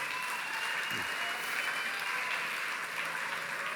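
Youth conference audience clapping during a sermon, a fairly quiet, even spread of applause that runs the whole time, with a faint voice briefly audible early on.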